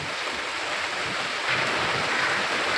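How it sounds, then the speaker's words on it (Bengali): Heavy rain roars in a dense, constant wash of noise, growing slightly louder midway, with no voices. "আরও জোরে বৃষ্টি এসছে"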